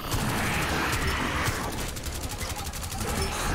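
Enemy gunfire in the video game Rainbow Six Extraction: a dense stretch of rapid automatic shots and impacts, loud and continuous across the whole moment within a noisy game mix.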